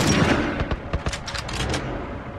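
Gunfire in The Last of Us: a burst of sharp shots, several cracking reports in quick succession over a dense, noisy game backdrop, fairly loud and close, with no talking.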